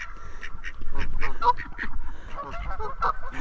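A goose honks repeatedly at Fishpond Lake in Kentucky. The loud, close, nasal calls come in an irregular run over outdoor background noise.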